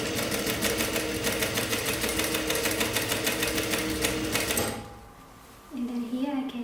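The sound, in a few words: sewing machine stitching top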